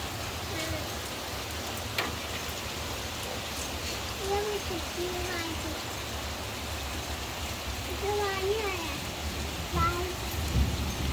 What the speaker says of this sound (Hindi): सही शदीद बारिश हो रही है।